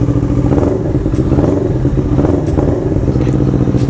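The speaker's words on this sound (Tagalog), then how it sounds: "Try natin start yung motor." A CFMoto NK400 motorcycle fitted with an Akrapovic exhaust runs close by, its engine giving a loud, steady, throbbing rumble without pause.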